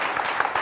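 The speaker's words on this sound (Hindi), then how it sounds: "जोरदार तालियां उनके लिए" A studio audience breaks into a brief burst of loud, dense clapping.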